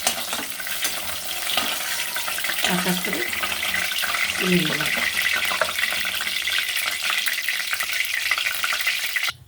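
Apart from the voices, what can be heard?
boiled pointed gourd frying in oil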